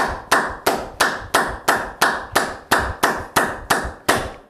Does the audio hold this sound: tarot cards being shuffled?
no